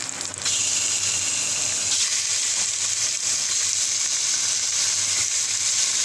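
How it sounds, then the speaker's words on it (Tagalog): Pork tenderloin fries in a pan with a steady, loud sizzle and crackle that runs unbroken and close, with a brief quieter start before the hiss fills in. "iprito na natin ang pork tenderloin"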